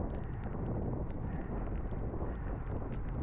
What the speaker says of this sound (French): Là on est vent de face à ce moment-là, donc faut pas que je perde les roues.